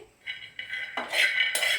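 A pan is lifted off a gas stove and a kadhai cooking pot is set down in its place, giving a few close metallic clanks and scrapes of cookware against the burner grate, with no talking.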